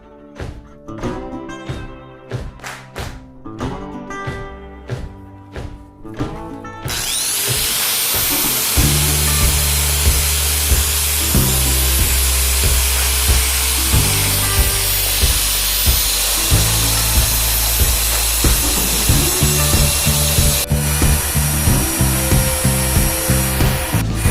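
A large 6- or 7-inch angle grinder strips a Yamaha RD350 motorcycle frame: light clanks and handling at first, then a loud continuous abrasive grinding roar with rhythmic surges as the disc works the metal, no voices.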